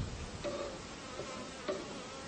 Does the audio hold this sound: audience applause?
no